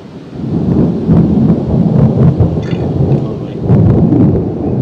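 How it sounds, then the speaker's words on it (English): Deep, rolling thunder rumbles continuously amid a thunderstorm heard from a narrowboat, loud and sustained with a faint hiss of rain. "It's a well big storm, isn't it, going on around?"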